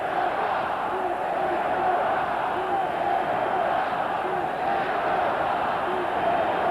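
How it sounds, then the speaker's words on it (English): A football stadium crowd chants for the Cleveland Browns, a steady roar far off with a rhythmic chant rising and falling under it. "the crowd chanting for Cleveland"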